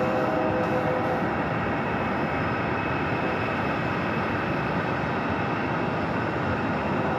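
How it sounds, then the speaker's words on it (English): Steady, loud rumble of a train passing near Phoenix Sky Harbor airport, a dense continuous roar holding level from start to finish with no voices. "Oh, I hear a train."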